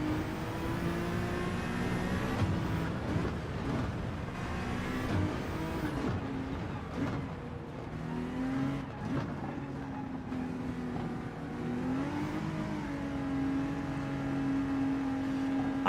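Audi R8 race car engine in a racing video game, a steady continuous drone with rising and falling pitch as it revs and shifts, loud and close throughout with no talk.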